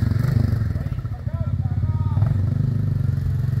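An electric motorcycle being test-ridden: a loud, steady pulsing low drone runs throughout, close by, while people talk over it.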